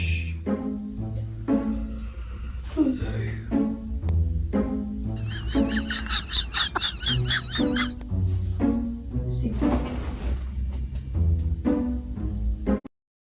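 A horse neighs and whinnies in repeated bursts, fairly close and loud, mixed with other animal-like cries and some background voices.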